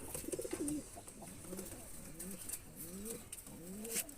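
Andra and Malbai pigeons coo nearby in a repeated, rolling series of soft calls. Faint chirps and background noise sit underneath, with no speech.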